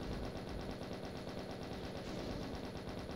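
Rapid video-game gunfire in a demon shooter, aimed at Cacodemons, plays as a dense, continuous burst of machine-gun-like shots throughout. The firing is moderately loud and unbroken, with no talk over it.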